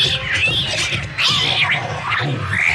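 A cat yowls and caterwauls in a movie scene, its strained, wailing cries rising and falling repeatedly over a busy low rumble of soundtrack noise, loud and close throughout.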